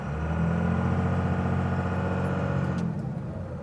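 A 2001 Dodge Ram 2500 with a 24-valve Cummins diesel engine accelerates gently, giving a steady, fairly loud low rumble heard from inside the cab, which eases off near the end.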